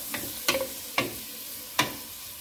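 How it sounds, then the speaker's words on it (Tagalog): Carrots are stirred into golden-browned onions in a hot pan, three or four sharp scraping stirs over a soft, steady sizzle. "Gisahin natin yung carrots."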